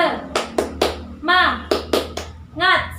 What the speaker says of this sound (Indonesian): Kita tepuk semangat lagi ya, agar kita lebih semangat lagi